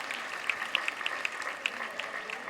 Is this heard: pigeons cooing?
no